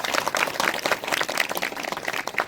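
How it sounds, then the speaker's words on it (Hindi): A church congregation at a Christian engagement program claps together in praise, a dense, steady patter of many hands sustained throughout without any speech. "अच्छा ताली बजाए प्रभु के लिए।"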